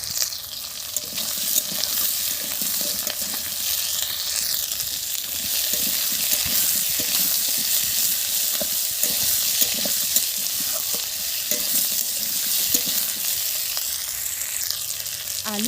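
Moringa drumsticks and potato pieces fry lightly in oil in a pan for a fish curry, giving a steady, close, continuous sizzle with occasional stirring scrapes throughout.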